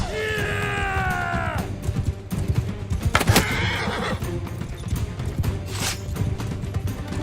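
A horse in a video game gives a loud, drawn-out whinny, followed by hoofbeats and clattering steps close by, with other game sounds around it.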